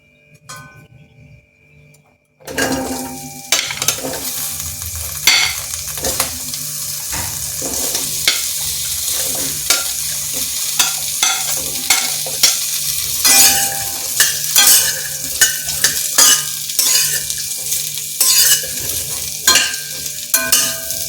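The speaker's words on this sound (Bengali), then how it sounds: "এবার আমি এই যে আলুগুলো প্রথমে এই তেলের মধ্যে ঢেলে দিচ্ছি।" Potatoes frying in mustard oil in a wok while being stirred, a loud sizzle that starts after a quiet moment, with repeated scraping and clinking stir strokes throughout.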